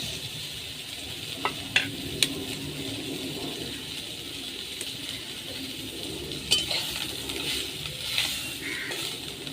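Chopped chili and fried peanuts go into a pan while chital fish from the Ganges cooks with bottle gourd greens and kasundi, giving a steady sizzle with scattered clinks and stirring knocks, no voices.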